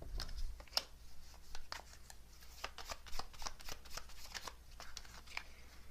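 Tarot cards being shuffled by hand, a quick, steady riffle of papery flutters and taps close up for several seconds, moderately quiet with no talking.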